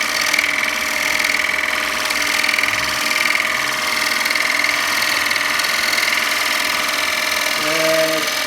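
Bowl gouge chattering against wood on a lathe, a steady buzzing hum with tonal lines running throughout, close and fairly loud, with a brief shift in pitch near the end.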